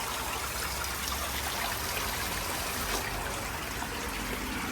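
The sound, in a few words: garden hose running water into a pond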